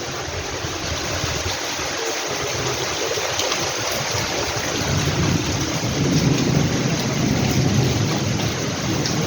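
Heavy rain pours down steadily in a storm in Belgharia, a dense, loud roar of water that swells toward the end, with low rumbling underneath and no voices.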